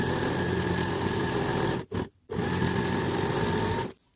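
A domestic sewing machine runs a decorative stitch with a steady, close mechanical hum. It breaks off briefly midway, resumes, then stops near the end.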